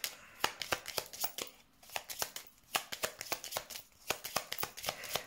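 Tarot cards shuffled by hand in a steady run of crisp riffling snaps and slides, close and clear with short pauses, no voice over them.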